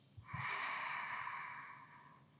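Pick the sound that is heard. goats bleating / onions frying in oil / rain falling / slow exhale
slow exhale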